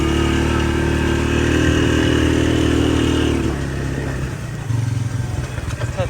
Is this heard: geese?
no